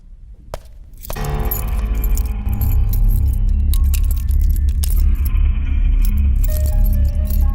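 A bunch of keys jangles and clinks as someone works to unlock a locked door, bright metallic rattling close up over a low background rumble.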